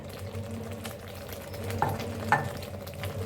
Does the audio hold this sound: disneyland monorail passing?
no